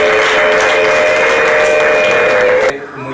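Sustained applause and ululation fill a Rwandan celebration, with a high, steady trilling over dense clapping, stopping abruptly near the end.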